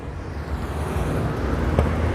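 A flat-four engined car passes at a 2CV gathering in Samobor, Croatia, a steady broadband road rumble building slightly toward the end with a brief sharper peak, no talk.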